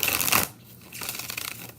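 A deck of playing cards being riffle-shuffled close up, a quick burst of flapping cards, a short pause, then a second rattling shuffle.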